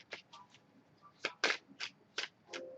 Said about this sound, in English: Got so many cards, I can't even shuffle.